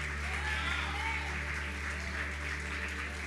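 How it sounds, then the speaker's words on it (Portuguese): Steady, dense crowd applause fills a church after a Portuguese-language sermon, continuous and even throughout with no pauses. "Aplauda o nome do Senhor Jesus"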